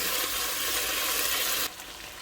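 Mushrooms frying in a pot of chicken shashlik, a steady loud sizzle that runs unbroken, then drops to a softer hiss near the end as the heat or stirring changes.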